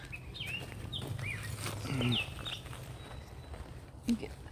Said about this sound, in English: maybe just sit here and listen to the birds